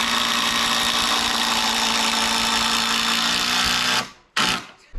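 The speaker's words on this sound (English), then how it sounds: "You've got the hex bit here and you literally just drill it in" A steady, loud mechanical whine of a power drill with a hex bit driving screws into pergola decking timber, running continuously for about four seconds, then stopping, followed by a short burst and a final quick spin.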